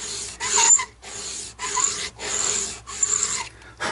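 A file rasps against the bone saddle of a custom archtop acoustic guitar bridge in close, rhythmic back-and-forth strokes, about six gritty passes separated by brief pauses.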